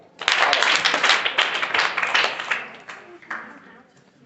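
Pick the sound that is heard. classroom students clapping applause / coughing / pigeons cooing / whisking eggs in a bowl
classroom students clapping applause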